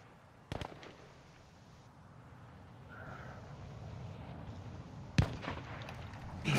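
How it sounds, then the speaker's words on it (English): Sharp gunshot cracks in a first-person shooter exfil firefight, one sudden shot early and a heavier burst near the end over a low steady background hum. "Oh, yeah, I shot someone."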